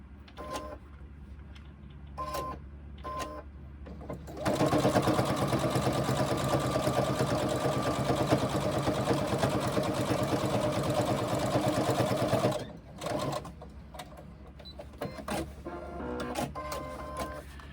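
A sewing machine stitches the seam of a fabric pouch, running in a fast, steady mechanical chatter for about eight seconds, preceded and followed by short bursts of stitching and handling noise close by.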